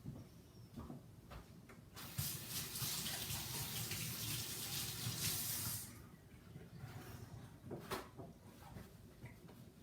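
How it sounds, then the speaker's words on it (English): A kitchen tap runs steadily while hands are washed during pasta preparation, a broad hissing water stream that swells louder mid-clip and then eases, with clatter and splashes around it and no talking. "let me wash my hand a little bit, please"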